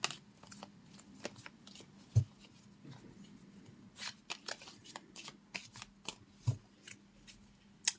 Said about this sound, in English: Think about it as I shuffle the cards for you